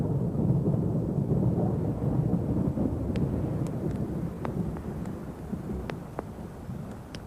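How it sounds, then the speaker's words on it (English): A thunderstorm rolls over a high desert plateau, with deep rumbling thunder and a steady hiss of rain and wind, and sharp drops or crackles sounding sporadically in the latter half. "When infrequent storms do bring rain to the high plateau"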